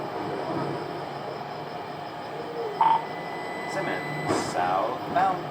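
A Little Rock Metro streetcar on the Blue Line pulls away from a stop, with a steady low rail rumble and hum, light squeals and clanks rising near the end, and some faint background voice.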